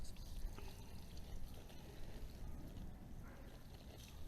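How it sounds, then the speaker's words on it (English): Boiling water mixed with a homemade solution is poured out in a continuous, faint splashing stream, steady for several seconds with soft room noise and no talking. "I'm also gonna pour the rest of my solution that I made in with this boiling water"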